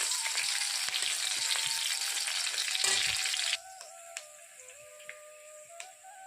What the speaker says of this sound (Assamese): ৰঙা হোৱালৈকে ভাজি ৰাখিম পিঁয়াজখিনি